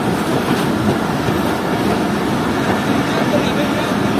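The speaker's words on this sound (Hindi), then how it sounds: "तो ट्रेन पहुँच रही है खुडिया खास रेलवे स्टेशन पर।" Fareed Express train pulling into Khudian Khas railway station, a steady loud rumble of wheels and carriages with a faint clickety-clack throughout.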